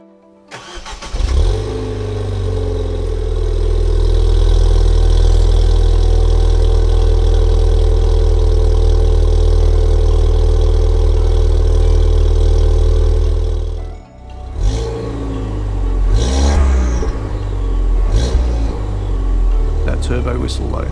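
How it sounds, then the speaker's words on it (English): A car fitted with an aftermarket downpipe and a standard catback exhaust starts up and settles into a loud, deep, burbling idle. After a brief drop, the engine is revved in short bursts. "it added some nice burbles and a slightly deeper tone to the otherwise standard catback exhaust."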